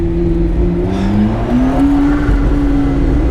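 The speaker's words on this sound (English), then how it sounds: "That turbo is insane, you know that?" A turbocharged mid-engine supercar accelerating hard, its loud continuous engine drone climbing in pitch through the gears, close and dominant with no talk over it.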